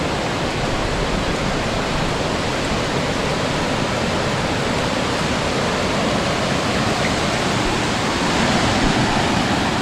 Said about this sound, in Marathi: नाही बघा पाणी बघा